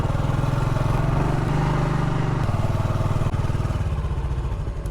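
A motorcycle engine runs steadily and close by for the whole stretch, a loud, even mid-pitched drone with a faint rattle and no talk over it.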